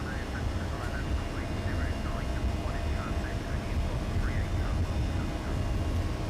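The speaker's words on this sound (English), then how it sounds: "Good acceleration, we're in a light aircraft, you can tell." Light aircraft on its takeoff roll in the flight simulator X-Plane 12, a loud steady engine drone with constant rushing noise, joined by faint voice chatter in the background.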